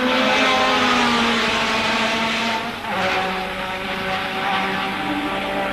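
Formula 1 cars from 1984 roar past at the San Marino Grand Prix at Imola, a loud continuous engine scream with shifting pitch as the cars sweep by, briefly dipping before surging again.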